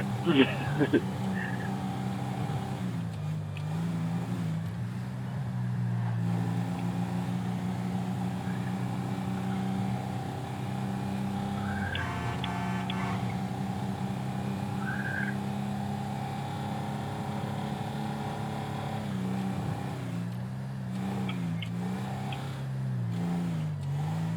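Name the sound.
modified 351 truck engine running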